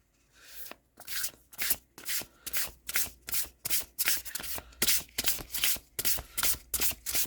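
A deck of oracle cards is shuffled repeatedly up close, a rhythmic series of riffling bursts, each quick flutter followed by a short pause.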